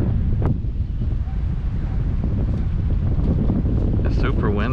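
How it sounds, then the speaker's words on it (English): Strong wind blasting across the microphone at a shoreline point while fishing, a loud, constant rumbling buffet with faint water wash beneath and brief voices near the end. "It's super windy, but we'll give it a try."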